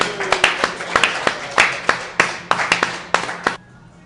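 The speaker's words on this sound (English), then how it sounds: "Big hand for R.J." An audience applauds student R.J. Hart at an on-location sports show at Atria's at PNC Park. Sparse, sharp claps come from a small crowd for about three and a half seconds before fading out.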